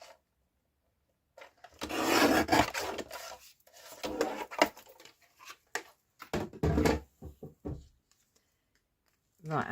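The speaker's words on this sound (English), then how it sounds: "we'll trim this piece down" Paper card stock being trimmed for a gel-printed stamp card, giving scraping, rasping cuts in several bursts with short pauses, close and fairly loud.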